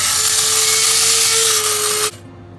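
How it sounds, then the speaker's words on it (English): A small single coffee bean grinder whirs loudly and continuously for about two seconds as it grinds roasted beans, then abruptly stops. "Just putting them in here into my wee single coffee bean grinder."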